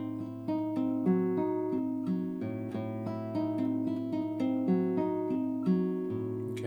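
A classical guitar plays a chord shape from Leo Brouwer's Etude 6, with steady arpeggiated notes in a flowing, even rhythm, close and moderately quiet and alone.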